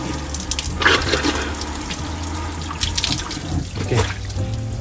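Hot water running and splashing while someone washes down at an open-air Japanese onsen, an uneven gushing stream with short bursts and drips, close by and without talk.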